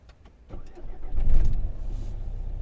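A 2012 Renault Scenic III with a 1.5 dCi diesel engine and automatic gearbox starts up. A starter cranks briefly, the engine catches with a deep rumbling surge, then settles into a steady, close idle.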